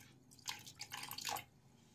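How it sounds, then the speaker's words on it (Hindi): Water splashes and trickles into a bowl of yogurt batter for kadhi in a few short bursts, close and moderately loud, then fades to quiet. "अब हम थोड़ा थोड़ा करके इसमें पानी डालेंगे"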